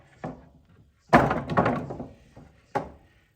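A 3/4 wood workpiece rapped a few times in a woodshop to knock sawdust off, giving four close, dull thunks, one of them a longer double knock, with short quiet gaps between.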